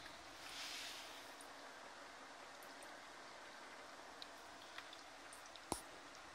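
The water bubbler of an HHO carbon cleaning machine, running at low power, gives off a faint, continuous bubbling wash, with a few soft ticks and one sharp click near the end and no talking.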